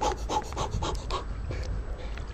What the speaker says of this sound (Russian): дышать тяжело